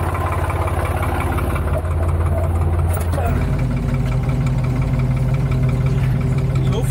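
A Lanz Bulldog 50 tractor engine runs at a sawmill cutting oak logs, a loud, steady low chugging drone throughout, with voices talking over it.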